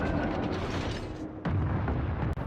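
Heavy battleship guns firing in a naval video game, 283 mm caliber aimed at the cruiser Tenryu: a continuous roar of booming blasts, with a sharp renewed burst midway and a quick crack near the end.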